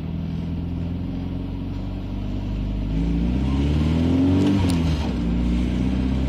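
Car accelerating on the road, a steady engine drone that rises in pitch and loudness midway as the motor revs up, heard from inside, then eases slightly, with no talk.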